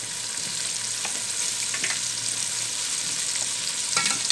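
Potatoes for aloo bhujia fry in a spoonful of oil, making a loud, steady close sizzle with faint stirring taps and no talking.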